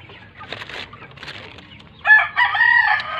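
Forty-five-day-old broiler chickens on a farm cluck and crow loudly nearby after a stretch of softer murmuring, ending in a busy burst of fowl calls.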